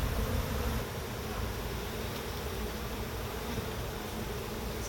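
Honeybees buzzing inside an opened hive, a dense, steady, close drone that stays loud throughout with no talking.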